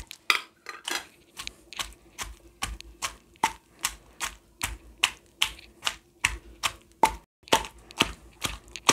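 Onion pieces are pounded in a stone mortar, giving a steady run of sharp, close knocks with hard stone-on-stone clicks that repeat evenly about twice per second.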